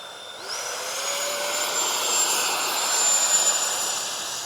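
An FMS twin 70mm EDF Su-27 model jet spools up and takes off with a steady, loud ducted-fan whine that climbs in pitch over a broad rushing roar, heard close and continuous.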